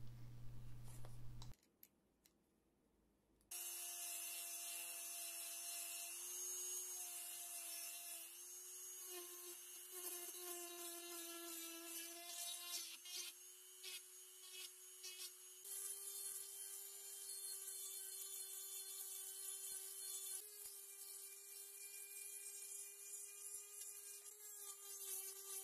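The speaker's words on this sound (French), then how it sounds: "J'utilise une bande de ponçage pour rectifier tous les bords." A sanding band grinds along the edges of 5 mm plexiglass, a sustained high rasping whine with a brief quieter gap near the start, then running steadily for a long stretch with no speech.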